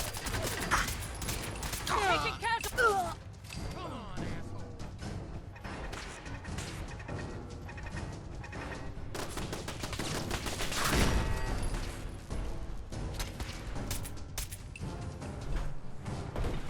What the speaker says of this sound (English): I still hear gunfire, so maybe we're not done